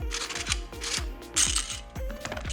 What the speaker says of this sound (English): if we unscrew it, just like a normal kind of suppressor here